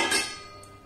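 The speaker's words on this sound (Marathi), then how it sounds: "झाकण काढून ग्लास त्याच्यावर ठेवून घेते मी." A drinking glass set down with a bright clink on the metal base inside a preheated pressure cooker, its lid, ring and whistle removed, for baking an eggless cake; one sharp knock near the start, then a short fading ring.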